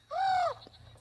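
One bird gives a short, loud, clear call, up close and alone against a quiet background, lasting about half a second.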